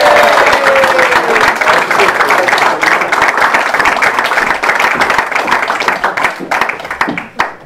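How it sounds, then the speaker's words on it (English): An audience at a magic show bursts into loud, sustained applause for the volunteers, dense clapping that holds steady and starts to thin out near the end. "A huge round of applause for my lovely volunteers"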